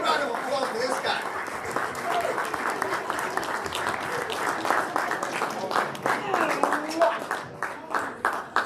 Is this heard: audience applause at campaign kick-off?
yes